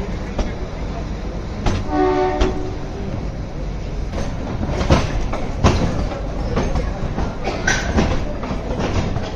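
The Kalka–Shimla toy train, the Shivalik Deluxe Express, rolls along with loud rattling and clickety-clack over a constant rumble, and a short tonal horn blast sounds early on.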